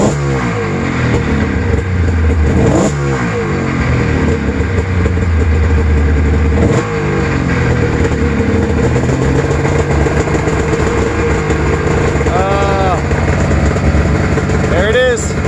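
A snowmobile engine runs loud and close, holding a steady rough drone with a few sharp revs and surges.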